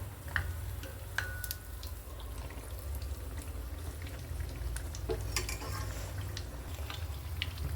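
Neyyappam, sweet fritters of batter, frying in hot oil in a small pan over a low flame, with a steady, close sizzle and bubbling across the whole stretch and a few sharp utensil clicks, with no talking.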